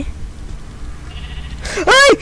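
A sheep in the Minecraft video game gives one loud, near bleat at the end, after a quiet stretch of low game ambience.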